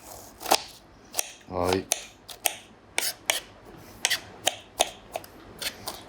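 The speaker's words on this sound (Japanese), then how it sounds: "かなり細くみじん切りにします。" A knife finely minces an ingredient on a board with a series of sharp, irregular taps. A voice briefly speaks once amid the chopping.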